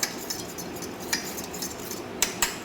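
A spoon mixing a neem face pack in a small bowl, giving light, intermittent metallic clinks and scrapes against a soft, quiet background, with a few sharper taps near the end.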